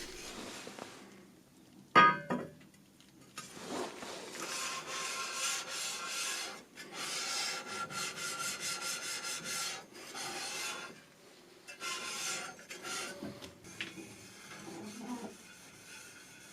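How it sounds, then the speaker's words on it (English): Steel being lapped on a flat structural-steel slab with fine abrasive and oil, a slow, steady rasping rub in long continuous strokes, close and fairly loud, with a sharp knock near the start. "Lapping for a long time and slowly, in order to produce less heat."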